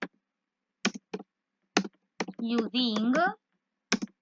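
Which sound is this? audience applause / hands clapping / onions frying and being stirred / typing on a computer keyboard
typing on a computer keyboard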